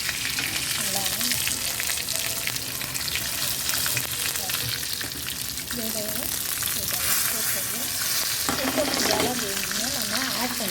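Stuffed vegetable pieces fry in a pan with curry leaves, giving a loud, steady sizzle close by that fills the whole stretch, with faint stirring scrapes under it.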